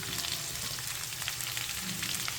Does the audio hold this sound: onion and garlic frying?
yes